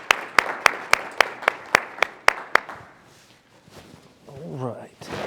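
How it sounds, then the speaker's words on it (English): Audience claps for a business development committee as its members stand at a company event, a series of sharp, evenly spaced claps that stop after a few seconds, leaving a quiet room and a brief voice. "Please give them a round of applause."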